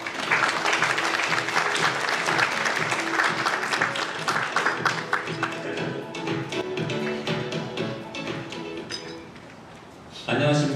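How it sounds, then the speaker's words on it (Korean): An audience at a corporate blockchain platform presentation claps steadily for about nine seconds in a dense, sustained round of applause that tapers off before a brief swell at the end. "박수로 맞이해 주시기 바랍니다."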